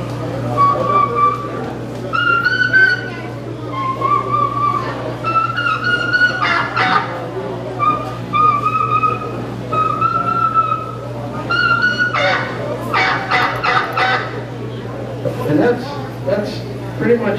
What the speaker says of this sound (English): call with a mouth call and use a friction call and answer yourself with a friction call